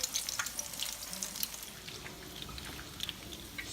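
Salmon patties sizzle and crackle steadily in a hot pan, a dense bed of frying hiss with scattered sharp pops throughout, close and fairly loud, with no voices.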